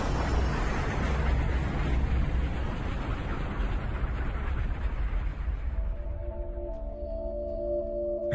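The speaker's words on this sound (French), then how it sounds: "Ça a été l'explosion la plus puissante qu'on ait jamais vue." A massive, powerful explosion sound effect rumbles as a dense, continuous roar for about eight seconds. It fades slowly as a low tonal drone rises at the end.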